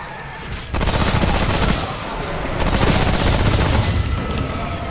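Rapid, loud gunfire from a gun in the video game Remnant: From the Ashes, sustained fusillade of shots running almost continuously through the clip.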